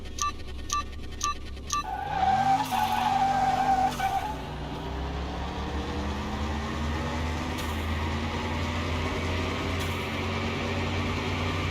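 A Pagani race car in Car Mechanic Simulator 2021 revving up and accelerating hard on a track, its engine climbing through gear changes after a short tone-like beep sequence, with a steady loud drone and tire noise sustained throughout.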